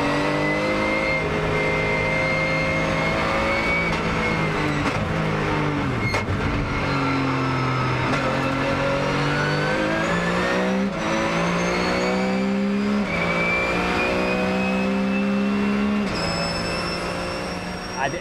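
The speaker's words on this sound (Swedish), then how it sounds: "jag fick ju bränna 5 varv på Mantorp med en cupbil" A Porsche Cup race car engine screams through repeated upshifts and downshifts, revving hard and rising in pitch, loud and close throughout.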